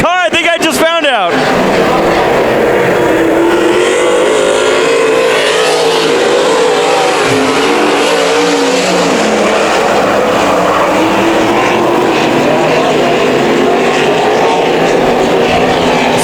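Sprint car engines roar through a heat race at Bakersfield Speedway, loud and sustained with shifting pitch as the cars pass, under an announcer's commentary.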